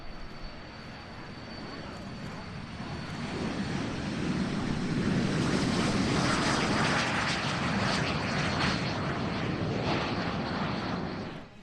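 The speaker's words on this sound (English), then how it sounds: "Jet warbirds are always a large feature of AirVenture, and a significant number of L-39 Albatrosses are always present" L-39 Albatross jet warbirds at the AirVenture air show, a loud continuous jet roar that swells and holds steady as the aircraft pass, with no voices over it.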